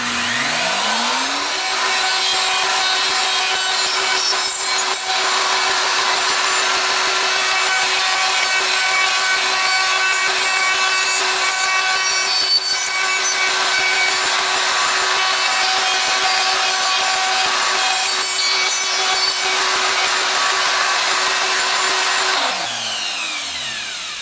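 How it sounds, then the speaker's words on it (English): A router fitted with a Leigh D4R Pro dovetail jig cuts pins in a wood board, a loud, steady high-pitched whine with grinding cutting noise that spins up, holds for about twenty seconds, then winds down. "and then we can route the pins"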